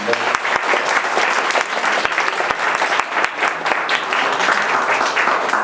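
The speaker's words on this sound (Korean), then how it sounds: "큰 박수 한번 부탁드리겠습니다" Loud, dense applause from a church youth congregation during a Sunday worship service, continuous crowd clapping with faint voices mixed in.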